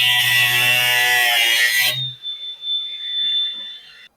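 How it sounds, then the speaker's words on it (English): A cut-off wheel slices through the trunk sheet metal of a 1992 Foxbody Mustang with a loud, steady high-pitched whine for about two seconds, then stops and leaves a fading ringing tone as the wheel spins down. "I'm going to go ahead and cut this off with the Ziz wheel"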